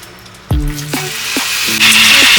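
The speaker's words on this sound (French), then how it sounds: "Donc je vais faire frire la viande." Meat frying in oil in a pan with garlic, herbs and salt, a steady close sizzle with a few sharp knocks and scrapes of a utensil, growing a bit louder toward the end, no talk.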